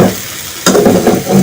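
Potato masala for samosa rolls being stirred and mixed in a pan, a soft scraping hiss that turns louder and busier midway, with steady sizzling and clattering stirs continuing to the end.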